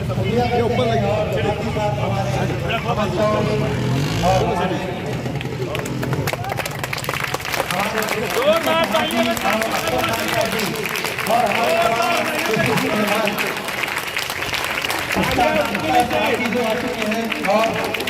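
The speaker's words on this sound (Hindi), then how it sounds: "ये जो तालियां है ये हमारे अफसर खान साहब की कामयाबी की तालियां है" An audience at a community grain distribution event claps and cheers in a dense burst of applause mixed with crowd chatter, while someone speaks loudly over the noise.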